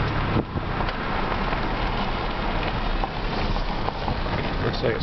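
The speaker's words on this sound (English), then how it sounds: "this is a huge dust devil that's forming over here" A large dust devil whirlwind churns across open ground, a steady loud roaring rush of wind and blowing dust with gusty buffeting, sustained throughout.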